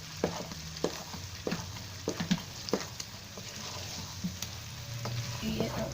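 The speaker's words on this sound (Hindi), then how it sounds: "अब हम इसे अच्छी तरह से भूनेंगे" Poppy seeds fry in oil as a spoon keeps stirring them, making a continuous soft sizzle with intermittent scrapes and taps against the pan, close and steady, with no talking.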